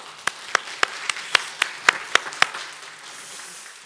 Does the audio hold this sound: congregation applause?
yes